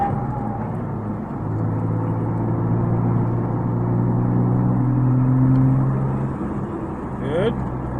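A car lapping the Summit Point race track gives a steady, loud in-cabin engine drone whose tones rise and fall as the driver brakes and accelerates.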